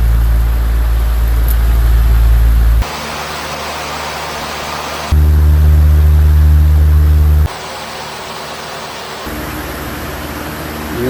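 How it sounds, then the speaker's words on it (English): The cooling fan of a LIPOWER MARS-2000 LiFePO4 portable power station whirs as a loud, steady broadband hum up close, switching abruptly between louder and quieter stretches as the fan speed changes. "The motor on the fan."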